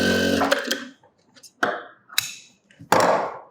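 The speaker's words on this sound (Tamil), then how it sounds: "மடிச்சுட்டு சும்மா ரஃப்பாக ஒரு தையல் போட்டுக்கோங்க நடுவில்" A sewing machine running a rough stitch through folded fabric in short bursts, each a fast whirring rattle lasting about half a second, separated by brief pauses, close and fairly loud with no talking.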